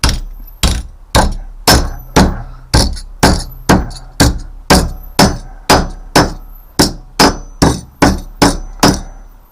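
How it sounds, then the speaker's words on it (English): Loud metallic clangs from a hammer striking a flat piece of metal, about seventeen blows in a steady, even rhythm, each ringing briefly before the next. "I'm going to whack it with the hammer"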